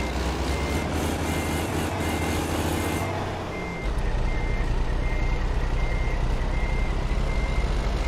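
Reversing beeps from a truck in American Truck Simulator come in a steady, rapid pulse over a low diesel engine rumble. The beeping stops after about three seconds, and the engine continues alone and grows slightly louder.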